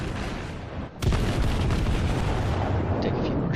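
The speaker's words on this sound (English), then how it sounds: "Take a few more shots before we get behind this island" A battleship's heavy guns fire in World of Warships, with a Colorado class battleship shooting at an Iowa. One loud, deep broadside blast lands about a second in, followed by a long rolling rumble.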